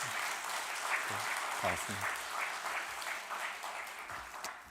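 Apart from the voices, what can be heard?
church congregation applause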